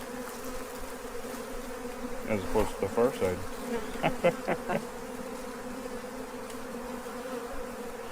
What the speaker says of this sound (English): even though these bees are not super aggressive right now